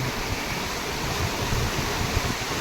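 River water from Mukteshwar Dam on the Saraswati river gushes through opened gates after heavy rain, a constant dense roar with low rumbling churn, steady and unbroken with no voices.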